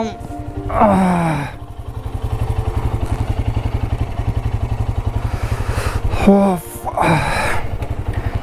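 A motorcycle idles with a steady, close thumping beat at the start of a long-distance ride, joined by brief revving bursts near the beginning and the end.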